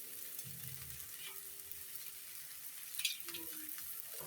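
Crushed garlic tossed into a pan of frying vegetables and tengra fish with potato, aubergine and beans, giving a faint steady sizzle with a few soft stirring scrapes, close but quiet.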